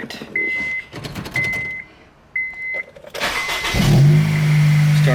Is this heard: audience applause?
no